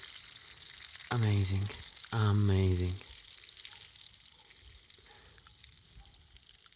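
Water draining from the opened drain plug under the floor of a VW Touareg, a steady faint trickling wash running throughout, with a person's voice briefly speaking over it near the start.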